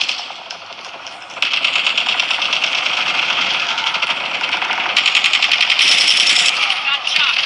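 Rapid automatic gunfire in Call of Duty Mobile played on an iPhone 12, a steady rattling stream of shots that grows louder partway through, with game voices over it.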